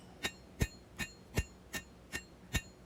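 A blacksmith hand-forges a large skinner knife, hammering the steel blade to draw it down from the spine. Seven evenly spaced, sharp ringing blows land close and loud, with no talking.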